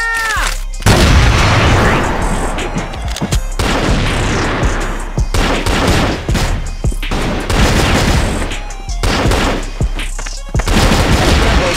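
A grenade blast and sustained gunfire in a video game roar loud and continuous, with dense overlapping shots and booms barely letting up throughout.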